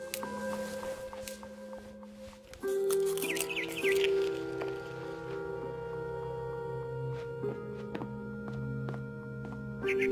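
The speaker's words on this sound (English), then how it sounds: "Then I heard chirping outside my window." Barn swallow chirps heard outside a window in the video game What Remains of Edith Finch, brief faint tweets over a quiet tonal ambient music bed, with no voices.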